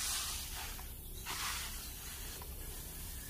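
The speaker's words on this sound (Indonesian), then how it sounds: "Kita semprot semua bagian sini." A hand sprayer mists an organic vitamin solution over climbing pumpkin plants outdoors, a soft steady hiss with a few stronger spurts, faint against background noise.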